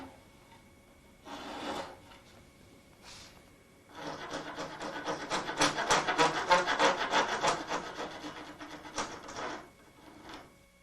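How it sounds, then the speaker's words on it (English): A four-in-hand rasp scrapes along a coped cut in wood, giving a short stroke and then a longer run of quick, rhythmic gritty rasping strokes close by, with no talk. "for smoothing out the irregularities of the coped cut, you can use a 4-in-hand rasp"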